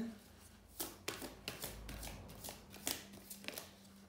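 Tarot-style cards shuffled and drawn for a card reading, with a series of soft, crisp slaps and riffles in a quiet room, spaced irregularly and heard close.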